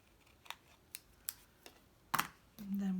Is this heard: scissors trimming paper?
yes